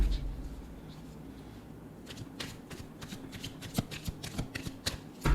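Tarot cards being shuffled and drawn from a second deck, a run of quick riffling flicks and soft snaps that grow denser in the second half, close and fairly quiet with no speech.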